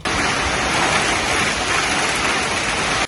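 Steady rain pours in a town in Chernivtsi region, a dense, even hiss of falling water that runs loud and unbroken before cutting off abruptly.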